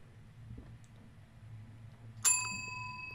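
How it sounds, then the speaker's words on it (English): In the Suite 776 horror game, a single bright bell rings once after a quiet stretch of low room hum, and its clear ring fades out slowly. "I tried ringing the bell one more time."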